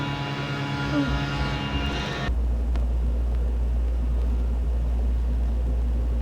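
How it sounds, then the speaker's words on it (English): A truck engine idles close by outdoors, starting with a harmonic engine drone that cuts off into a steady low rumble with background noise; a voice is faintly present. "It's too noisy. These guys, they got the truck here and everything else."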